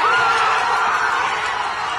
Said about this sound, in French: La foule en délire